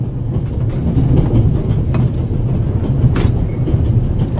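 Moving steam train crossing the Swiss Alps in The Raven Remastered video game, a loud continuous rumble of wheels and carriages with faint rhythmic rail clicks, heard up close and alone.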